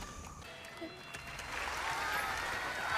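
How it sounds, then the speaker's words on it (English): Audience applause in an Ave Mujica anime episode, a broad crowd clapping wash that swells and thickens midway and keeps going, with a voice talking faintly underneath. "they applauded her falling"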